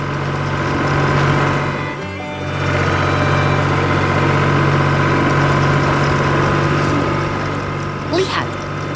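Farm machinery and a truck run steadily on a farm with a low, continuous droning hum, a brief dip partway through, and a faint voice in the background.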